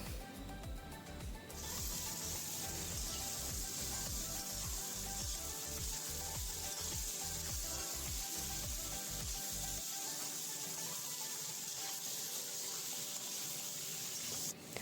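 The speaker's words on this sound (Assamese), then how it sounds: "আপোনালোকে মটনখিনি ভালদৰে অলপমান ভাজি ল'ব" Mutton frying in a pan, a steady close sizzle with a rough, scraping texture that runs almost unbroken from start to finish.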